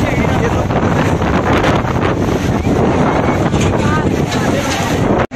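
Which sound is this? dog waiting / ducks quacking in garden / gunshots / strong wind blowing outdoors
strong wind blowing outdoors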